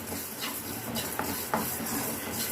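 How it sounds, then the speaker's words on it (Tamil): Mustard seeds and fenugreek dry-roast in a pan for a tomato pickle, giving a steady soft sizzle and stirring scrape broken by a few sharp pops of bursting seeds, with no talking. "கடுகு நல்லா வெடிக்கட்டும்."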